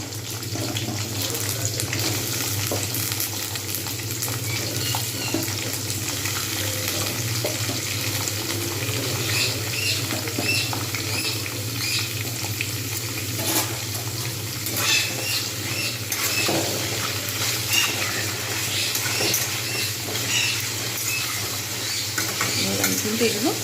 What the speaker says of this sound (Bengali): এবারে আমি এর মধ্যেই দিয়ে দেবো ফুলকপি এবং আলুগুলো। এগুলো ভালো করে আমি ভেজে নেব